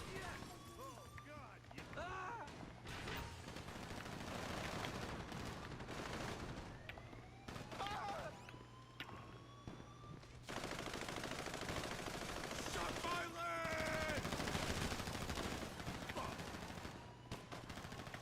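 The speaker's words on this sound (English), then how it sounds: "Guns blazing." Gunfire in a Grand Theft Auto game, rapid bursts of machine-gun and gunshot fire crackling loudly and almost continuously over a steady low hum, with a siren-like wail drifting through.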